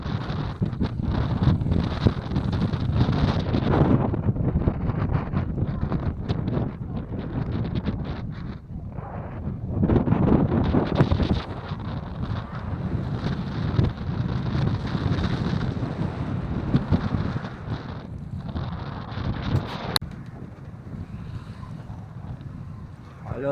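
Wind gusts rush over a small toy sailboat sailing from Italy to France, a steady broadband roar that swells and eases, with a faint voice now and then beneath it.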